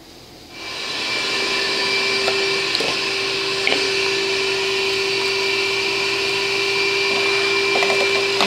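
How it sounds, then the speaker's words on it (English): A vacuum cleaner starts after a brief quiet moment and runs steadily with a loud, high whine, picking up debris from a lawn mower deck with occasional clicks and rattles. "the best way to do it is to vacuum it up"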